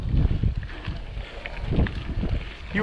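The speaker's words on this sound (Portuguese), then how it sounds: "E o vento ajudando a te lascar, empurrando contra." Wind buffets a microphone as a mountain biker climbs a farm trail, giving a loud continuous low roar with gusty swells and some rattling thumps from the ride.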